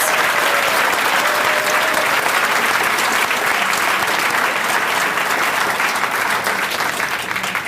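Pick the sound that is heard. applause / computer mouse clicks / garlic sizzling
applause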